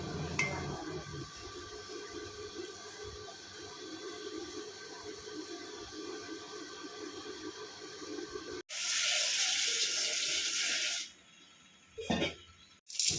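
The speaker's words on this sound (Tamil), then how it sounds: "ஒரு கைப்பிடி தோரம்பருப்பு ஒரு கைப்பிடி பாசிப்பருப்பு போட்டு நல்லா கழுவி எடுத்துக்கலாம்" A handful each of toor dal and moong dal is rinsed in water in a village kitchen: faint clinks of a vessel give way to a loud rush of pouring water for a few seconds, then quieter handling.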